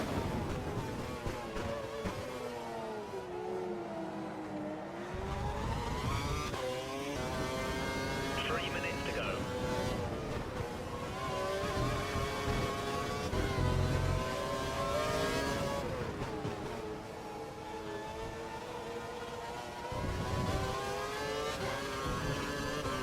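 A Formula 1 race car engine in a video game screams through a lap, its high-pitched whine rising and falling steadily with gear shifts and acceleration, loud and continuous throughout.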